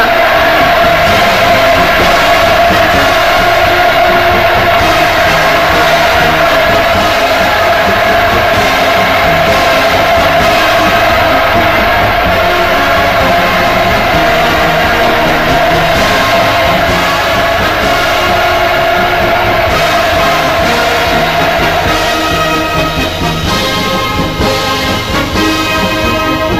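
A large crowd at a mass rally in North Korea roars with sustained cheering, loud and continuous throughout, with a steady high shouted tone riding over the dense wash of voices.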